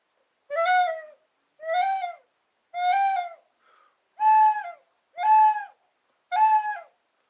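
A person imitates an owl's hoot with a soft, dove-like woo: six evenly spaced, rounded calls, close and clear, with a tiny murmur between the third and fourth.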